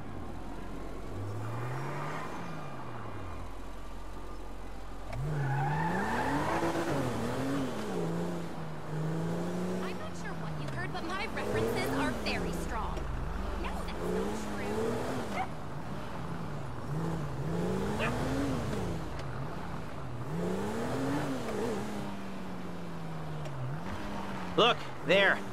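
A car engine in Grand Theft Auto V drives around a city block, its pitch rising and falling steadily through repeated revs and gear changes, with game ambience beneath.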